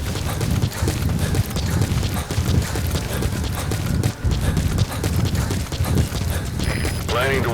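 Steady rhythmic clip-clop of horse hooves in Metal Gear Solid V, loud and close, over a dense mechanical game soundscape, with a brief electronic chirp near the end.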